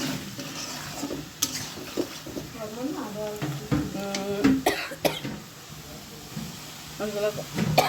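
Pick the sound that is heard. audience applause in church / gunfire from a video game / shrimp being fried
shrimp being fried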